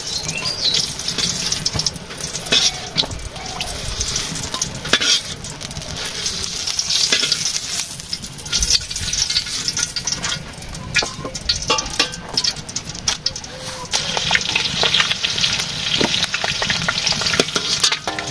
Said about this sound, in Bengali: ডিম ভাজি হয়ে গেছে।